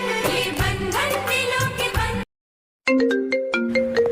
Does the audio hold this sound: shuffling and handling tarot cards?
no